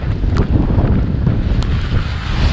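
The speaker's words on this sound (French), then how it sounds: "Le vent est un peu plus vicieux en fait. Il souffle beaucoup plus en rafale." Strong gusts of wind roar across a microphone on a stormy wet road while cycling, a loud buffeting rush with fluctuating bursts and no voices.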